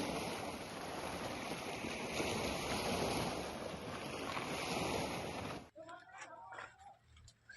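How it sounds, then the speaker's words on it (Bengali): Lake water washing and surging against the shore of Pangong Lake at night, a loud, steady broadband rush with wind noise that cuts off abruptly near the end, leaving faint ambient sounds. "জল আছড়ে পড়ছে।"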